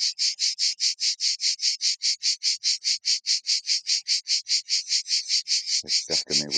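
Provençal cicadas buzz in a loud, rapid, evenly pulsing drone close by, and a voice briefly breaks in at the end.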